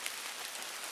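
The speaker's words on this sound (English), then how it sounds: "kind of riding out a small afternoon rain shower" Light afternoon rain shower at Bandy Creek Campground, a steady soft hiss of drops pattering on surfaces, even and continuous with no voices.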